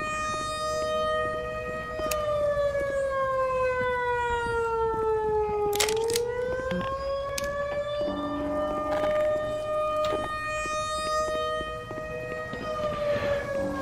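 A wailing siren in the Black Mesa game sounds continuously, its pitch sliding down and back up in long sweeps, loud and steady throughout with brief bursts of other game noise.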